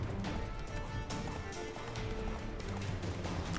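A horse gallops hard in The Witcher 3, its hooves beating in a fast, steady rhythm that stays loud and close from start to finish, with a little game sound underneath.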